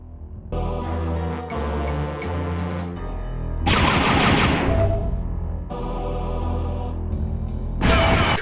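Turrets open fire in the 1995 PC shooter Star Wars: Dark Forces, with two loud, dense blasts of rapid gunfire breaking over steady, tonal game music.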